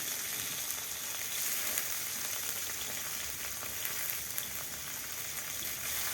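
Onion and tomato sizzle steadily in a frying pan for chicken green noodles, a continuous close crackling hiss with faint irregular pops and no voices.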